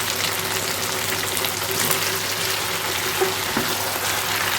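Beef sizzles in plenty of oil with spices for a biryani, a steady, close, loud hiss and crackle of frying that goes on without a break.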